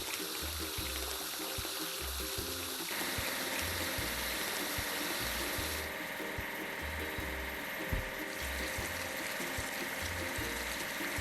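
Water sprays in a truck car wash video game, a steady broadband hiss running beneath looping mechanical, ratchet-like game effects and a rhythmic low thumping beat.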